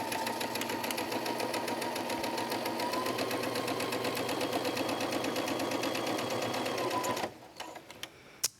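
A sewing machine stitching down the sides of a fabric pocket runs as a steady, close, rapid mechanical whir for about seven seconds, then stops, leaving a few faint clicks.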